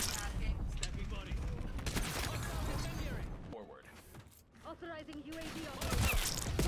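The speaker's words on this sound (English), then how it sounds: "I always shoot through something at the start of this." Rapid gunfire bursts in the Black Ops 7 video game, dense repeated shots and mechanical clatter filling most of the clip, with a short lull near the middle before firing resumes.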